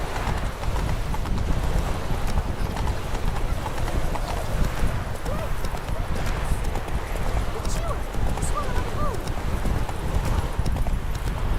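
Roach the horse gallops in The Witcher 3, hooves pounding in a fast steady clip-clop that runs throughout, with a brief whinny and a voice talking over it.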